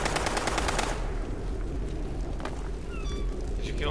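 Automatic gunfire in the video game Fallout 76, a rapid burst of shots at the start followed by quieter game ambience and faint electronic chirps.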